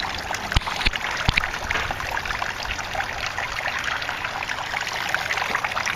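Steady trickle and splash of water running through an aquaponics system from an aerator bar into grow beds, a continuous close babble with a few sharp drips and clicks.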